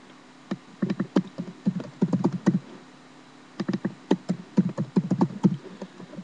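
Quick, clacky keystrokes come in two bursts with a quiet gap between, a nearby computer keyboard being typed on steadily.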